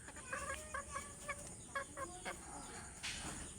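Chickens clucking nearby in a backyard flock, a series of short bursty clucks repeating at an uneven rhythm, fairly faint against light background noise.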